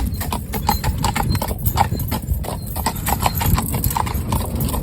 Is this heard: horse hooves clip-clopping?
yes